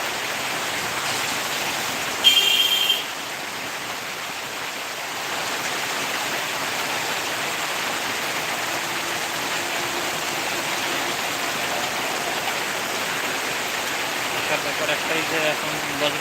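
Heavy downpour of rain falling as a steady, moderately loud wash of noise, with a brief high electronic tone early on and faint murmurs beneath.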